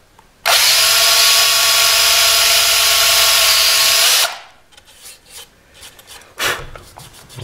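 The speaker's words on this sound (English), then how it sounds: "And then we want to drill as fast as we can, not as fast as we can, but we want to drill nice and steady and just to that depth." A power drill bores a hole into the binding of an electric guitar fretboard, making a loud, steady high-pitched whine for about four seconds that stops abruptly, followed by faint handling clicks and rustles.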